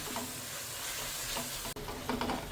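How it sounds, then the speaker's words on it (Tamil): Masala with tamarind water sautés in a pan for a tuna head curry, making a steady soft sizzle with brief stirring scrapes toward the end. "இந்த புளி தண்ணியை கொஞ்சம் ஊற்றிட்டு வணக்கி கொடுக்கலாம்"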